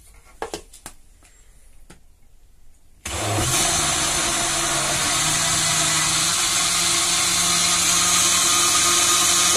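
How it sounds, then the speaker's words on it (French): Kitchen blender mixing crepe batter: a few light clicks and knocks, then the motor kicks in with a loud, steady roaring whir that holds for several seconds, close and with no talking. "nous avons versé le bol dans le mixeur. Donc nous allons le mixer."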